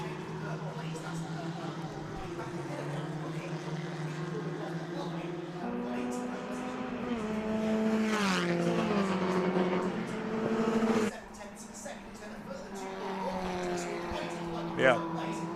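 Race cars, including a Van Diemen RF90, lapping Oulton Park circuit during a race, engines droning steadily and rising in pitch as they pass, with a commentator talking over the engine noise.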